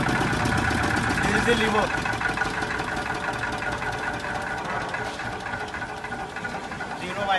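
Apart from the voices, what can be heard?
10 kVA generator set running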